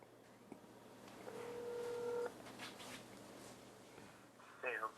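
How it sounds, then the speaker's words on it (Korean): Telephone keypad tones from dialing to connect a call on a radio broadcast, a short series of beeps followed by a steady dial tone lasting about a second, with faint background noise. "전화 한번 연결해 주세요."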